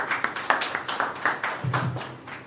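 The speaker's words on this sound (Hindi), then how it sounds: "तो पास्टर मनोज का हम तालियों से स्वागत करते हैं" Brief scattered clapping from a church congregation welcoming a pastor at a Sunday evening service, a few hands tapping unevenly, with a short murmur of voice near the end.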